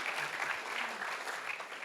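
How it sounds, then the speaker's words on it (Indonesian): Church congregation at GBI Gilgal Manado applauding during a Sunday service, a steady, fairly soft wash of hand claps from many people that holds evenly throughout without any talking. "berikan lebih meriah lagi tepuk tangannya buat Tuhan"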